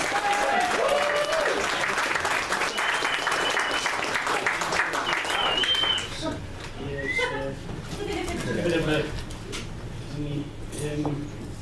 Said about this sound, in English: a bit more clapping, then adding some foot stamping, and then some cheering